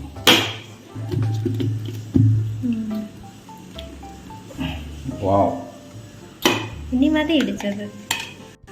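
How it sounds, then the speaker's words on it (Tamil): Small and big onions sauté in a pan, with a spoon scraping and clinking against the metal and a light sizzle underneath, while a person talks over the cooking. "இப்போ இறச்சி வைக்க வேண்டிய உள்ளியை வதக்கிட்டு இருக்கேன் சின்ன உள்ளி பெரிய உள்ளி ரெண்டையும் போட்டு வதக்குதேன்"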